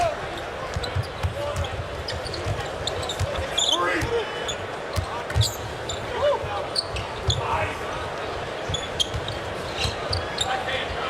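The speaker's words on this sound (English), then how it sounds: "Ball bounced off John Wall, Denver ball with 11 to shoot and a timeout on the court" Basketball bouncing on a hardwood court during an NBA game, a steady run of dribbles amid constant arena crowd noise, fairly close and moderately loud.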